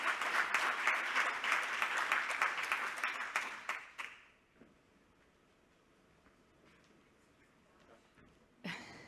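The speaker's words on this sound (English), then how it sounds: "Big round of applause" Audience applause at an awards ceremony, steady loud clapping from a crowd for about four seconds that stops abruptly, followed by a quiet room and a brief sharp sound near the end.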